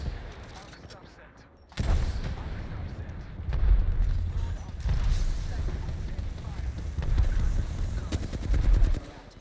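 Bursts of automatic gunfire and impacts in an Apex Legends match, with rapid fire coming in dense volleys after a quiet start, loud and busy, under game voice lines.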